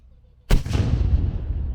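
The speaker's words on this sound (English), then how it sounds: "cannon noise" A single loud blast from a muzzle-loaded cannon, its cartridge rammed down, booms out at Waxhaw Battlefield after a near-silent pause, its deep roar rumbling and slowly decaying over the following second.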